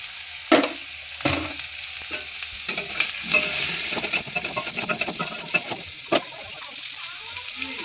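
Amdola frying with onion, turmeric and salt in a pan, a sizzle rising and falling under irregular metal clinks and scrapes of stirring.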